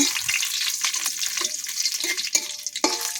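Bay leaves, dried chilies and five-spice seeds hiss and crackle in hot oil, a bright continuous sizzle broken by sharp pops and a few metallic clinks of a utensil against the pan.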